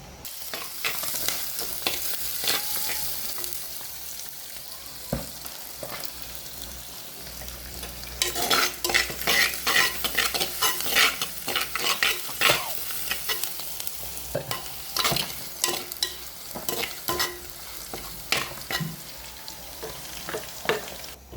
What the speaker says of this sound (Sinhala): අපේ රතුළුල් කරියට අවශ්‍ය මාළු ටික බැදිලා තියෙනවා